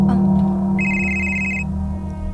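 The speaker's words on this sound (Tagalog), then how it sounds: "Cellphone man ron." A cellphone rings with a steady electronic trill that holds for about a second. A low hum and some background noise sit beneath it.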